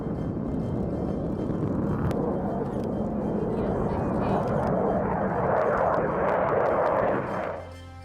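Indian Air Force fighter jets such as the Jaguar, Mirage and Sukhoi roaring overhead during a firepower demonstration at Pokhran, a loud sustained broadband rumble that swells and then drops away near the end.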